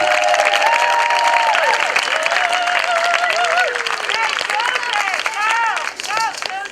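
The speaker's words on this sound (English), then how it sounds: "Please give our sister another round of applause." Audience applause at a New Age festival gathering at Chichen Itza, dense sustained clapping with crowd babble, while a loud voice talks or sings over it throughout.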